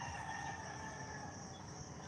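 Roosters crow in the morning, faint and far off amid a steady rural background that also carries other birds and distant pig noises, with no one talking.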